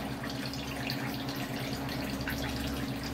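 Steady water sound of water poured into a cooking pan for fish curry, continuous and fairly close with no speech.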